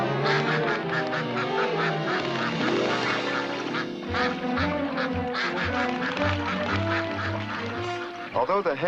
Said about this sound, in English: The mallard hen hides her nest among the grasses.